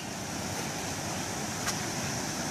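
Water cascades steadily over slate rock at Trowbridge Falls near Thunder Bay, a dense, continuous rushing wash with no pauses, fairly loud and close, with no voices.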